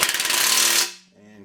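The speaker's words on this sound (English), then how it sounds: "Put my wrench on there. We'll impact, make sure it stays in this time." Impact wrench rattling a nut tight on a 1957 Chevy radiator mount, a close, loud burst of rapid hammering for under a second before cutting off, followed by a faint low hum.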